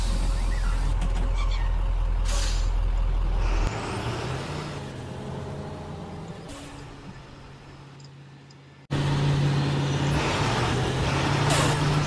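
Bus engine idles and rumbles at close range, then two sharp hisses of air brakes release, the engine note shifting between them with no talking.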